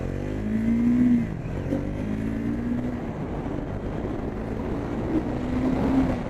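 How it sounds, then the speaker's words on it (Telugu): A Triumph Speed 400 motorcycle accelerates, its engine drone rising and falling in pitch with gear changes, close and loud under rushing wind. "నేను సడన్గా క్లచ్ వదిలేసినా అసలు వీల్ స్పిన్ అనేది లేదు బైక్లో."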